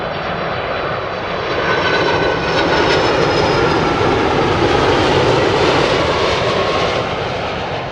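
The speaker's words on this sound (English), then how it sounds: "That is Delta, Boeing 767." A Delta Boeing 767 jet at London Heathrow, its loud, steady engine roar rising and then holding close by, with a high whine riding above the rumble and no voices.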